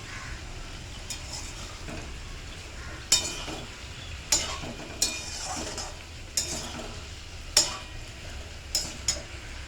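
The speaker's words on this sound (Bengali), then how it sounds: "সামান্য গরম জল দিয়ে এখন সমস্ত মশলা, আদা বাটা আর সমস্ত যে গুঁড়ো মশলাগুলো দেওয়া হলো সেই দিয়ে নাড়াচাড়া করা হচ্ছে।" A spatula stirs ground spices and ginger paste with a little hot water in a pan, a quiet simmer under repeated sharp scrapes and taps against the metal every second or so, close and with no talking.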